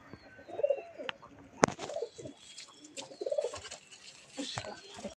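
Fancy pigeons in a loft coo in soft repeated phrases, close and moderately loud, with one sharp knock partway through and light rustling and fluttering around them.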